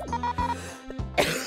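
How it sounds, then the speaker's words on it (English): A couple of sharp, close coughs, the last one louder and harsher, with quiet background hum between them. "I apologize if you can hear me coughing in the background"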